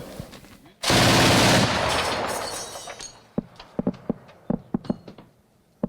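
Ukrainian anti-aircraft gunners of the 93rd brigade firing a machine gun at drones: one long, loud sustained burst, then a rapid string of sharp, separate shots that fade slightly.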